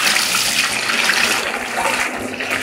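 Liquid homemade bar-soap mixture pours and drips from a tipped bucket, a steady close splashing gush of thick liquid with no one talking.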